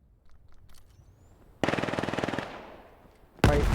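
Rapid automatic gunfire from an MK rifle in the shooter game Vail during a competitive match, a sustained loud burst followed by a trailing echo and then another sharp shot.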